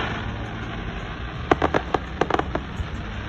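Fireworks crackling in a quick irregular cluster of sharp bangs, several pops close together and then trailing off, heard from a distance over steady background noise.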